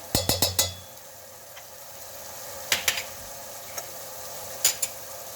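Onions frying in a pan, sharp clacks of a utensil stirring against the pan, a quick burst of four at first and then scattered knocks over a quiet, faint sizzle.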